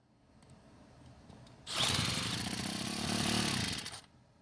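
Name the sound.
trimmer engine starting, cranked with drill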